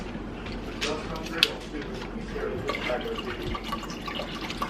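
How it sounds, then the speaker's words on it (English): Water pours from a container into a cooking pan while making chili spaghetti, a steady splashing stream running for several seconds under a voice talking nearby. "So you're going to put your water in there."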